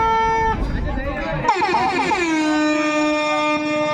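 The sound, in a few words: air horn at a kabaddi match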